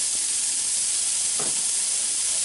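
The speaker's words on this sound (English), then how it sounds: "swish that around in there in the drippings from the frying process there" A steady, loud sizzling hiss of diced onion frying in hot drippings in a Dutch oven fills the clip, with a brief stirring scrape partway through.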